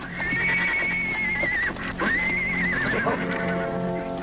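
A horse whinnies twice in close succession, with long shrill wavering neighs that are loud and near, set in a Western drama scene with no speech during the calls.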